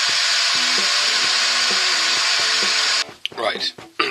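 0000 wire wool rubs a stained 11-inch sycamore bowl on a woodturning lathe, making a steady, close, broadband hiss for about three seconds before it stops abruptly. A voice is heard over the hiss.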